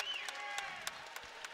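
Crowd at a True Revelation MMA event cheering and clapping steadily, with scattered louder whoops and a sustained yell over the continuous applause.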